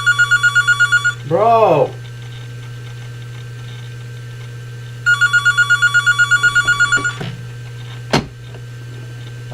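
An indoor telephone gives two bursts of rapid electronic trilling rings, separated by a pause and a steady background hum, with a voice calling out between them.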